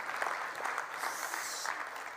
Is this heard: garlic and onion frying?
no